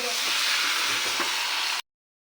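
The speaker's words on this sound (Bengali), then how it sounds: "ফাইনালি দেখেন গরম জল ঢেলে দিয়েছি" Hot water poured into a pan of sizzling mutton kosha, a steady bright hiss and frying crackle that holds evenly for under two seconds, then cuts off abruptly.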